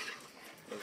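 A dog whimpers in a brief, faint, high-pitched whine, close by and alone with no talking.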